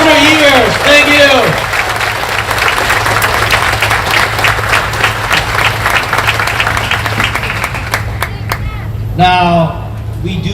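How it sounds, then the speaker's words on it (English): A festival crowd at the Hmong Wausau Summer Festival breaks into sustained, loud applause for a speaker, with a voice talking briefly at the start and again near the end over the clapping. "Can we just give him another round of applause, please?"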